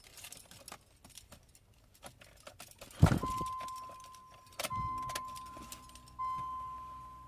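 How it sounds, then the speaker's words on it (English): Car keys jangle and clink up close as they are put into a car's ignition, a short metallic rattle followed by a steady electronic tone ringing and repeating in the quiet cabin. "Putting the keys in."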